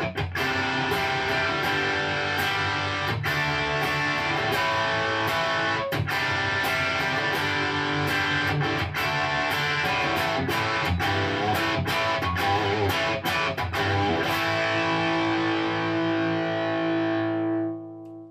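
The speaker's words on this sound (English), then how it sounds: "Okay, so I'm going to move on to the overdrive sound." Overdriven electric guitar from a Stratocaster bridge pickup through a Blackstar HT-40 Club 1x12 combo on its overdrive channel, drive at midpoint with no reverb, playing loud sustained chords with sharp rhythmic accents, then ringing out and fading at the end.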